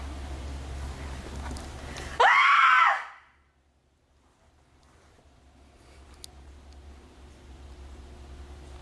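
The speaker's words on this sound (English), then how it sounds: "give him another scream" At a haunted house attraction, a single loud, close scream bursts out for under a second, then drops into near silence with faint rustling afterward.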